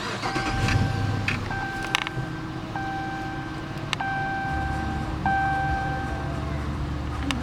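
A 2020 Dodge Charger Police with an AWD 5.7 HEMI V8 starts up. Repeated electronic chimes sound, then the engine catches and settles into a steady, smooth idle rumble. There is faint talk in the background.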